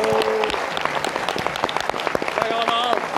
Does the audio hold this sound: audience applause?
yes